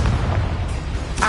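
Confringo fire spell in the game Hogwarts Legacy, a loud, heavy, rumbling burst that fills the moment, with a brighter blast flaring right at the end. No one speaks.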